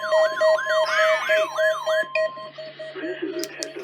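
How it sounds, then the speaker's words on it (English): A NOAA weather radio's warning alarm sounds during a weekly test: a loud steady tone under a rapidly warbling siren-like sweep, followed by fainter broadcast sound. "This is a test of NOAA radio's warning alarm device"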